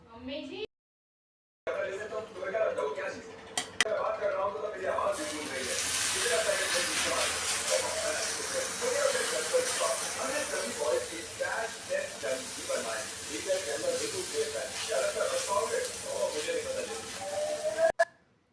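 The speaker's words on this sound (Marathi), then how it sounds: "गरम तव्यावरती तेल टाकलं त्यानंतर त्याच्यावरती हे बॅटर टाकलं" Dhirde batter poured onto a hot oiled non-stick pan sizzles steadily up close for most of the stretch, with a few sharp clicks and someone talking over the frying.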